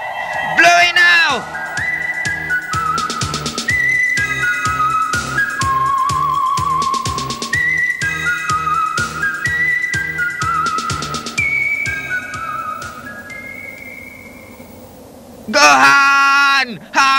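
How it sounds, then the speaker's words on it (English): A whistle plays a long melodic tune of sustained pitched notes over rhythmic music, with short bursts of excited voices at the start and end. "Quick, blow the whistle!"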